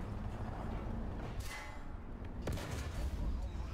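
In a tank video game, set on the Carpathians map, a tank gun fires, giving a couple of sharp, heavy booms over constant engine rumble and battle noise.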